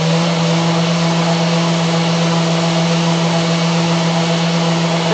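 A steady, loud power sander whirs continuously with a constant hum, sanding metal flush with wood, a high gritty abrasive hiss running beneath it the whole time.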